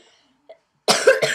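A single hoarse cough, close and fairly loud, breaking into two quick bursts after near silence.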